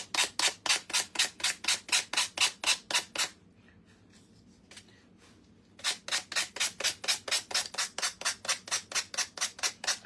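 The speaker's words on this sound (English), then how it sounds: "this one is going to need a little more sanding than the first one" A small wooden craft piece from a DIY wood kit is sanded by hand in fast, even back-and-forth strokes, a loud rhythmic rasp that pauses for a couple of seconds and then resumes.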